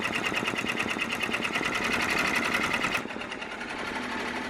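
An embroidery machine stitches a logo onto a business shirt, its needle chattering in a fast, even rhythm, close and steady, then dropping to a quieter hum for the final second and a half.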